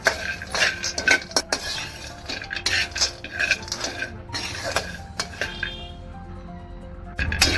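A spoon stirs almonds roasting in a pan for ladoo, a home kitchen sweet made with dink, giving rapid close clinks and scrapes of metal on the pan that come in irregular bursts and fade toward the end.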